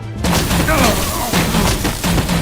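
A loud gunfire volley in Batman The Enemy Within, several dense booming shots in quick succession, with a voice shouting over the blasts.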